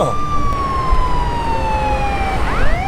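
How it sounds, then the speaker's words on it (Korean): An ambulance siren passes on the road, a loud wailing tone sweeping steadily downward as the vehicle goes by, over traffic noise. "응급차네. 비켜야지."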